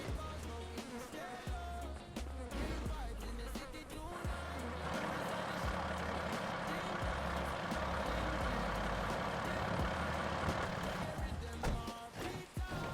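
A truck in a city driving video game rumbles with a low engine drone, revving and steadying into a sustained loud roar with pulsing beeps and hiss over it, and no talk over it.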